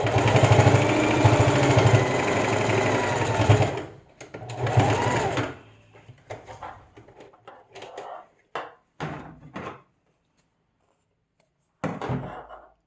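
A home sewing machine runs steadily while stitching fabric face masks, a loud close motor whir for a few seconds, then short start-stop bursts and quieter handling sounds with gaps of silence.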